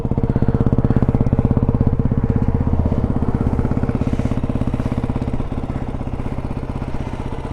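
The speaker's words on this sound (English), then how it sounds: "Bike is running really nice." A Ducati Hypermotard 698 Mono RVE single-cylinder motorcycle engine runs steadily and close by with a fast, even thumping pulse, holding a constant idle-like rhythm with no talking over it.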